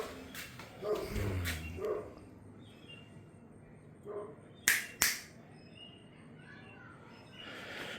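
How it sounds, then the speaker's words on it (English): A Great Pyrenees barks outdoors in a few separate bursts, moderately distant and not very loud, with sharp clicks and faint bird calls scattered between the barks. "Great Pyrenees barking literally everything."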